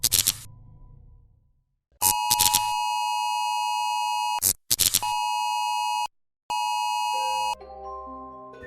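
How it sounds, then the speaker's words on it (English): An Amber Alert emergency tone: a loud, harsh, steady electronic dual-tone blare in repeated long bursts separated by brief gaps, preceded by a short burst of noise and trailing into other sounds at the end. "this daunting wail is the sound that plays as a part of the Amber Alert system"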